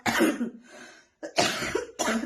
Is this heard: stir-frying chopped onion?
no